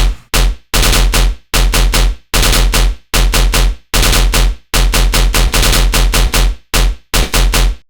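Synthesized tearout machine gun bass with chorus and stereo width fires in loud, rapid staccato bursts, each hit sharp and heavy, repeating in a steady stuttering rhythm with short gaps between groups.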